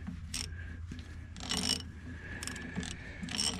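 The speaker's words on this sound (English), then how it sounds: "I have the 9/16 on a ratchet" A ratchet wrench turns a 9/16 socket on a drain plug, giving a few short clicking bursts against a steady low mechanical hum, close up, with no talking.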